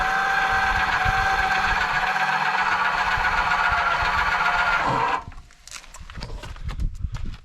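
A WDD 242 trailer tongue jack spins as it is raised or lowered, giving a loud, steady, humming whir for about five seconds before cutting off into softer, scattered clatter.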